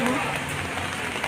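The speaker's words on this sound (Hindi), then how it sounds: "देखो कितनी बारिश हो रही है" Heavy rain pours steadily during a city flood, a dense, even hiss filling the scene close by, with faint voices mixed in underneath.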